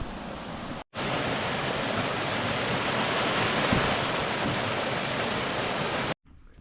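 Spring water pouring out of the bottom of a small valley, a steady full rushing wash heard close and continuous for several seconds, with no talk.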